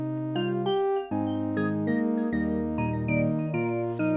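Two layered chord parts from an FL Studio Afro Bongo beat playing together, thick sustained harmonies shifting roughly every second with bright plucked accents on top, dense and steady, no talking.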